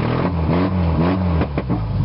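Dodge Dakota pickup truck engine running close by and revving, with loud rising and falling surges over about two seconds.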